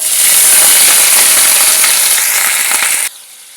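Curry leaves, onions, green chilies and broad beans hit hot oil for a tempering, bursting into a loud, dense, steady sizzle that cuts off abruptly near the end.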